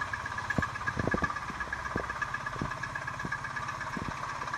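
A 2019 Microcar Dué Premium microcar's small engine idles steadily with a low, even throb and a few sharper knocks, heard up close with no voices.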